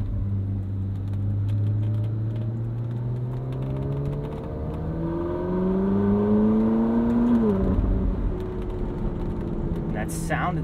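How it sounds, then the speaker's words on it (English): A Ferrari 458 Spider V8 drones steadily with rising and falling harmonic tones, climbing in pitch as it revs up, then dropping back after a sharp surge. "And that sound of that V8 is just so incredible."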